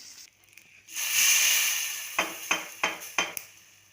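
Spices for a chow chow kootu tempering hiss and sizzle in hot oil, a loud steady crackle that swells then settles, followed by four sharp spoon taps against the pan.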